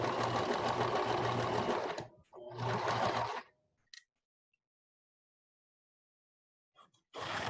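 A sewing machine stitches a square pillow sham in two steady bursts of rapid, even whirring, followed by a quiet gap, a couple of small clicks and a final start of stitching.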